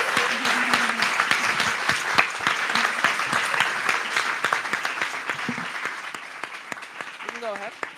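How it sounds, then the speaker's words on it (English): Audience applause at a literary tribute event for Maryse Condé, a steady patter of clapping that gradually thins out, with a voice speaking over it near the end. "Another round of applause."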